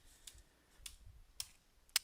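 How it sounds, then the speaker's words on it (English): Four sparse, soft clicks sound as someone types on a computer keyboard at a slow, uneven pace in a quiet room. "So if you start typing"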